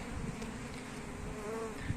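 A dense, steady buzz of many honeybees fills the clip, close and continuous, with no voices.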